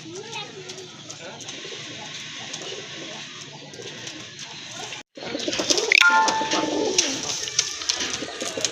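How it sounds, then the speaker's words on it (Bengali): Large desi Bombay pigeons coo in low, rolling calls, with someone talking over them throughout and the birds growing louder and closer in the second half. "এটা হচ্ছে বোম্বাই কবুতর, একেবারে কিন্তু দেশি বোম্বাই কবুতর, হিউজ সাইজের কবুতর"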